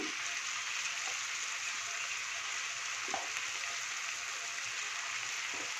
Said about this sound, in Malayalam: എന്താ മുളക് പൊടി ഇടുന്നു